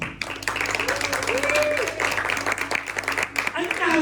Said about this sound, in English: can you please give them a big round of applause?